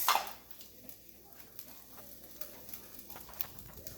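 Egg fried rice is stirred in a frying pan, giving a faint, soft sizzle with light scraping and a few quiet taps of the utensil.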